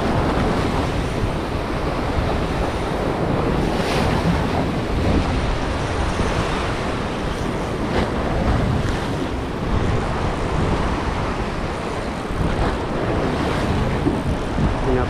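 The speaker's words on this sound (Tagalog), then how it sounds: "Karamdaman natin yung sampa ng alon." Ocean waves surge and crash against a rocky shore during rock fishing, a loud continuous roar with periodic swells, heavily mixed with gusting wind buffeting the microphone.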